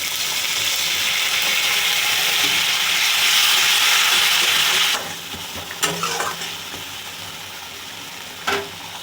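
An egg curry masala of ginger-garlic paste, tomato, turmeric, chilli powder and a splash of water hisses in a pan, a loud steady sizzle that drops off, followed by scattered spoon scrapes and taps while stirring.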